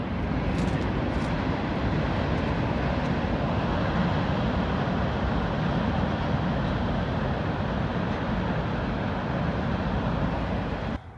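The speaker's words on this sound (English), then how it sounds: "There is a big train going by." A big train rolls past outdoors, giving a continuous, even roar that holds steady for several seconds and drops off abruptly at the end, with no talking over it.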